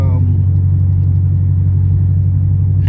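A Pontiac G8 GT V8 rumbles loud and close with a deep, steady low drone throughout, and a brief higher tone fades at the start.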